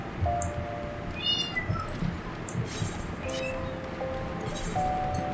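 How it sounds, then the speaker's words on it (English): A cat meows several times in short, rising calls over a quiet room hum, moderately close. "you can hear my cat in the background"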